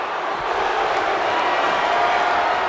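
Virtual arena crowd at a WWE 2K24 ambulance match between Joe Gacy and Noam Dar roars in a steady, dense wash of cheering, with a faint commentary voice underneath.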